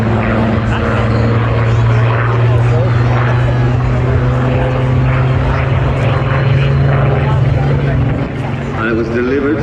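Spitfire Mark 19 aircraft flying past at an airshow, a loud sustained piston-engine drone with a steady low hum and rising harmonics, fading slightly near the end, with a voice talking over it.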